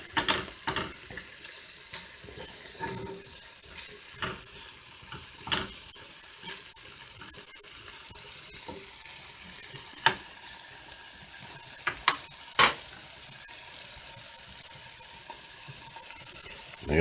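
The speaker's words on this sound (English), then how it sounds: "We're gonna kind of saute this all together." Bacon, turkey necks and string beans sauté in a skillet, cooking in their own bacon grease with a steady low sizzle. Scattered clicks and scrapes of stirring break through, including a few sharp knocks.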